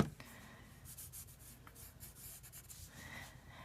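Pencil drawing on paper, close and quiet: soft scratchy strokes and light rubbing in short irregular bursts, with no other sounds.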